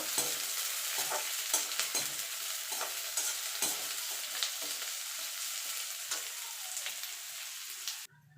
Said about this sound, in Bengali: দিয়ে হালকা করে ভেজে নেব